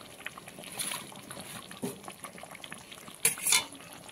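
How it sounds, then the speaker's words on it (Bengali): Chicken being sautéed and stirred with cumin, coriander, black pepper and Kashmiri red chili powder in a pan, a quiet sizzle with soft scraping stirs and a couple of louder clatters near the end. "দিয়ে এবারে মাংসটাকে আরেকটু ভালো করে কষিয়ে নেব"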